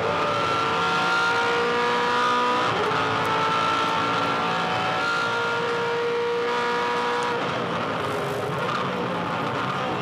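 Onboard with a 2007 V8 Supercar racing around the Tasmania circuit, a loud continuous engine roar rising and falling through gear changes, close and unbroken for the full ten seconds.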